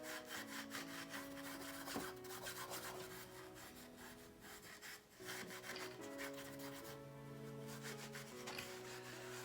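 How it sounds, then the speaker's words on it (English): Wax is rubbed by hand onto a decoupaged wooden box in quick back-and-forth strokes, a faint, close, rhythmic scraping and rubbing with short pauses between passes. "we're just going to rub it onto the wood"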